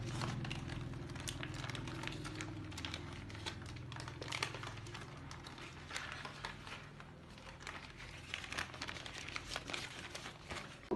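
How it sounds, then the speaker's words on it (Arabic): Baking paper is peeled and crumpled off quiche dough in a tart mould, giving close, continuous crinkling and rustling with scattered sharp crackles and no speech. "نحيدوا الورق ديالنا بهذه الطريقه هذه، نزولوا هذا الورق"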